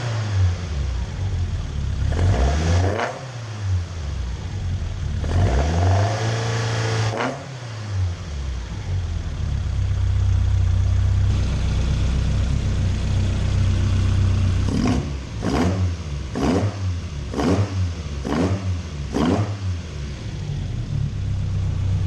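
A Toyota AE86 with a 4AG engine and new RSR extractors feeding a 2 1/4 inch mandrel-bent exhaust revs up close: two long swelling revs, a steady idle, then a quick run of five sharp blips.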